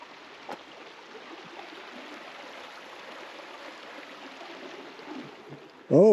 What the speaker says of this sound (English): I believe the creek's running right over there.